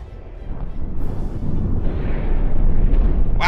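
Heavy artillery shells bursting around a warship's gun in a From the Depths naval battle, a dense rumbling roar of overlapping explosions that builds louder toward the end with a sharp crackling blast.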